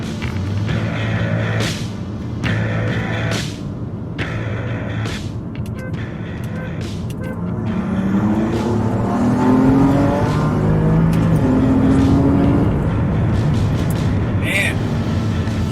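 Turbocharged BMW M3 with upgraded pure turbos on 93 octane races a stock-turbo BMW M4 on full E85; engines rev and accelerate hard with rising whine through the gears, building loudness, while voices talk over the run.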